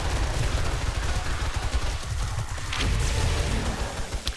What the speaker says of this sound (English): I was shooting a little bit too high just now.